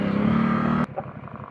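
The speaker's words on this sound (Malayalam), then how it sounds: "ഓ സ്പിന്നായി ബാക്കിൽ ടയറ്." An offroad vehicle's back tyre spins on a forest trail in Cauvery Wildlife Sanctuary: a loud, close, steady engine roar that cuts off abruptly, leaving quieter rumbling.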